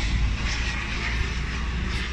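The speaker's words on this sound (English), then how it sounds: "That's a private jet," A Cessna Citation private jet flies past near Heald Green, a steady broadband engine roar holding loud and even throughout with no talk over it.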